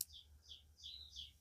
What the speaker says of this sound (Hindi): सिर्फ पशु पक्षियों की कुछ आवाज़ आएगी यहाँ पे।